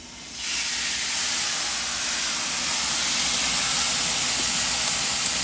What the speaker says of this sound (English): I'm gonna sear it